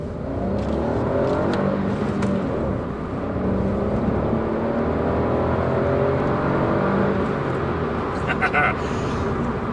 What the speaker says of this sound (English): So if you rev it too long, it kind of just digs down a little bit.